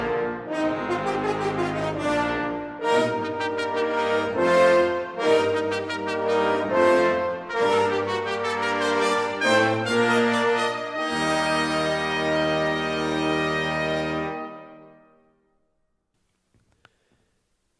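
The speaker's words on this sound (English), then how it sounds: "Together, the brass section sounds like this." An orchestral brass section plays together in a loud, sustained chorale of rich chords, moving through a series of notes before holding a final chord that fades into silence.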